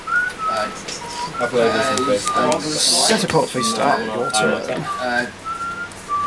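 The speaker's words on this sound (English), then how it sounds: "Who's whistling?" A person whistles a series of short, clear, high tones with pauses between them, mixed in with steady talking.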